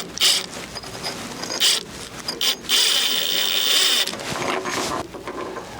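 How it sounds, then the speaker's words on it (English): A power driver sinks 3-inch construction screws into the top saddle bracket of an aluminum railing post on a concrete porch, giving several short whirring bursts and one longer run, close up and without talk. "So I'm going to go ahead and use like 3-inch construction screws on this top saddle bracket like that."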